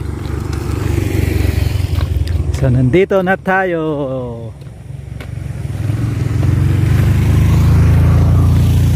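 A motorcycle engine runs close by on a rural hillside track, a steady low rumble that dips briefly while someone talks over it, then swells again loudly.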